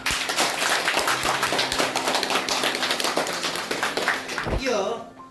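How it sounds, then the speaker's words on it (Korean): A room full of park golf club members at an officers' inauguration ceremony claps together in brisk, close, continuous applause that lasts several seconds and then tapers off. "우리 수고해 주신 집행부 전 임원진에게 수고의 박수 한 번 더 부탁드립니다."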